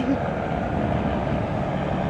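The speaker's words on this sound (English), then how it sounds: "And we've got a helicopter taking off." Helicopter taking off at a port in Qaqortoq, Greenland, a steady low rotor and engine drone heard from a distance, continuous and even throughout.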